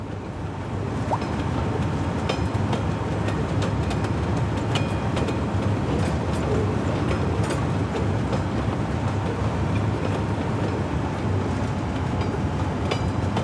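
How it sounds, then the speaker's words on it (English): A train rolls past in the city-building game Cities Skylines II, a loud continuous rumble with clattering wheels and scattered metallic clicks that hold steady throughout, with no voices. "Hey, look, it's another train."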